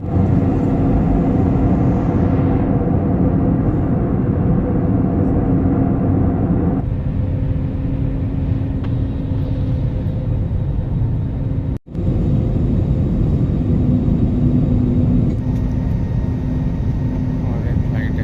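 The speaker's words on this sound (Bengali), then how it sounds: "আমাদের ফ্লাইট এখন ল্যান্ড করছে।" Steady, loud airplane cabin rumble during landing on a flight from Kolkata to Krabi, a broad roar that shifts in tone partway through and briefly cuts out, with a hum underneath.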